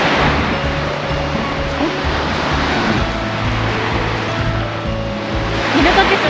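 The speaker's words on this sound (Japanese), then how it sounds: "メルちゃん、初めての海はどうかな。" Ocean waves wash in at the seashore with a steady, loud broadband rush of surf and some wind noise. No voices are audible.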